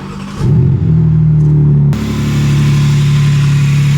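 A BMW G80 M3 fires up from its push-button start: a sharp crank and catch flare into a loud rev, then a steady rumbling idle with a step change in tone partway through, close and alone.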